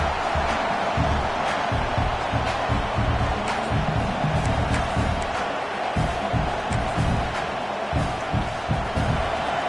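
A big stadium crowd at a football game near the goal line roars continuously, a dense, loud wash of cheering and yelling that never lets up, with scattered claps and thuds.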